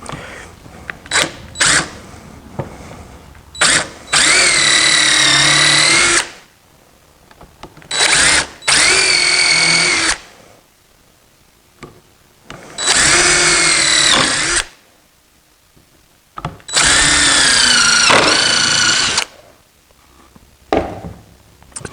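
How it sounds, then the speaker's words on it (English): A power drill whirs in repeated bursts of a few seconds each, driving deck screws into the legs of a wooden sawhorse, pitch rising and falling under load, with quiet pauses between. "I'm holding the legs on with deck screws."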